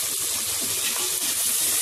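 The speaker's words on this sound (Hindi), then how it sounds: "और इसको थोड़ा सा पानी डाल के भूनूँगी।" Ginger-garlic paste frying with onions and a splash of water gives a steady, close hiss and sizzle in the pan, with no break.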